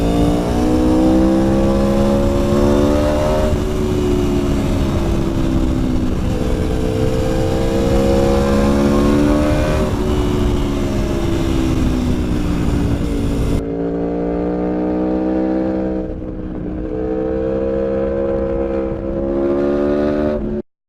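A 2019 Aprilia Tuono Factory motorcycle accelerating hard along a twisty road in cold weather, its engine note rising loud and rising again through repeated gear changes, then dropping back before climbing once more.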